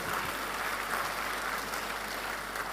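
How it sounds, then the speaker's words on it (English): Audience applause for the Harmonious Chorale after a choral performance at a formal event, a dense, steady wash of many hands clapping continuously without pause. "Please, let's give them another big round of applause."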